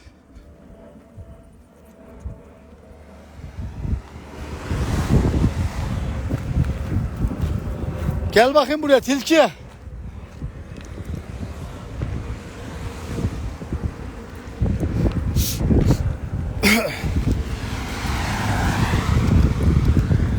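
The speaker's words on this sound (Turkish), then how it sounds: "Araba geliyor dikkat et." A car approaches and passes on an outdoor road. The rushing swell builds and fades amid strong wind noise, and a voice briefly calls out nearby.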